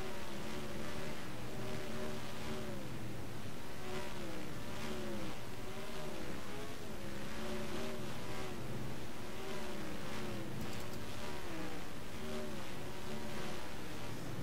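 Race cars at Edmonton Speedway roar around the track in a dense, continuous drone, engine notes rising and falling as the pack circulates, loud and steady throughout with no talk.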